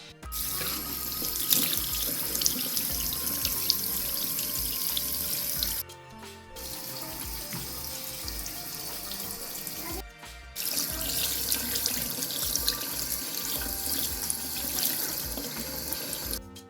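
Tap water runs steadily into a sink while lukewarm water is used to rinse a face. The flow is close and continuous, with two brief pauses, and no one speaks.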